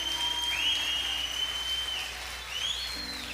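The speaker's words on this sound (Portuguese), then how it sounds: "Dá uma salva de palmas ao Senhor bem forte." A church congregation claps together in a broad, steady wash of applause with a tonal whistle-like line running above it, fairly loud and continuous throughout.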